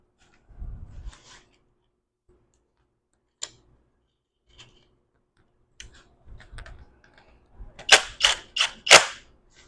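A locking bolt fitted during reassembly of a Mazda M5R1 manual transmission: a dull knock, then a few scattered metallic ticks and a close cluster of sharp clicks and clacks toward the end, with no voices.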